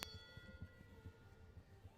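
A single struck start bell rings at a show jumping arena during a 1.10m speed class, a sharp metallic strike at the start that leaves a sustained ringing tone fading slowly over low, steady arena background noise.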